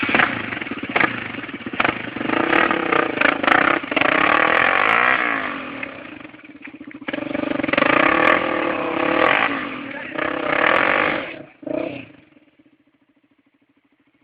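A motorcycle engine revs repeatedly and loudly up close, surging and dropping in uneven bursts before cutting to a low idle, with voices talking faintly beneath.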